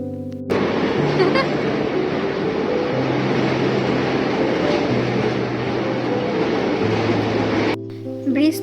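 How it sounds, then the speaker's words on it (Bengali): A train coming from Bangladesh passes close by with a loud, steady rumble and rattle that cuts off abruptly near the end. "আর এই ট্রেনটা না বাংলাদেশ থেকে আসে।"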